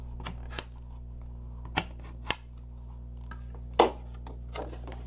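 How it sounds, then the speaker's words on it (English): Scored cardstock for a box card is folded and burnished by hand, a few brief crisp creaks and clicks spaced apart over a steady low hum. "I'm going to fold and burnish those score lines."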